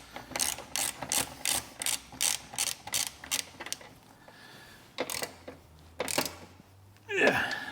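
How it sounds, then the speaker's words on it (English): A small hand ratchet tightens front bumper bolts on an MG ZS 180, giving a steady run of about a dozen crisp clicking strokes, then a pause, a few more clicks and a final rattle, close and clear. "Get your little small ratchet."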